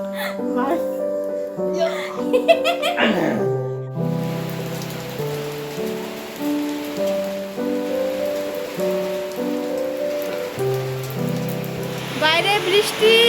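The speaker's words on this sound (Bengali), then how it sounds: "বাইরে বৃষ্টি" Steady rain falls outside on a rainy day, a continuous hiss of drops on surfaces heard beneath close, ongoing talking from a person indoors.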